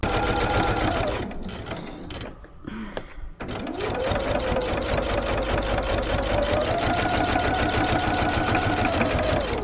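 A sewing machine runs loud and close, stitching the seams of a fabric bag in a long steady whir that stops briefly, then resumes and keeps going to the end.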